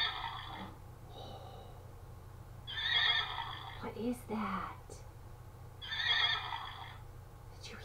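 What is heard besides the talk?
horse neighing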